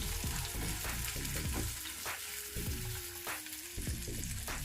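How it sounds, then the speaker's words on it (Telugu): Onion and capsicum pieces for pav bhaji frying in a pan, a dense loud sizzle punctuated by rhythmic clanking strokes of a spatula stirring, continuous throughout without speech. "ఇప్పుడు ఇందులో 1/4 కప్పు వరకు ఉల్లిపాయ ముక్కలు, అలాగే 1/4 కప్పు క్యాప్సికమ్ ముక్కలు, ఇవి కొంచెం వేయించుకోవాలి"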